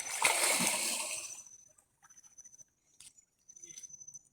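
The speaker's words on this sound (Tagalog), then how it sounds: "lalangoy kami mga idol, makakatawid lang kami sa ilog" A burst of water splashing and sloshing up close as people swim across a river, then fading into quieter scattered splashes and small knocks.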